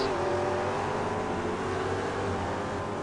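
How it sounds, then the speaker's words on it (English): McLaren race cars on a racing circuit, a steady droning engine roar at mid distance, sustained and even throughout without pauses. "Mitchell there passing the Bits Racing McLaren"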